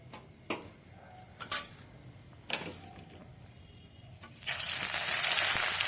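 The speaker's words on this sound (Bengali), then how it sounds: "লঙ্কাটা বেশ আমি কড়া করে ভেজে আলাদা তুলে রাখবো।" Dried red chilies fry crisp in hot oil for a mustard greens bhorta, a soft steady sizzle with a few sharp clinks of a utensil against the pan, and the frying swells louder near the end.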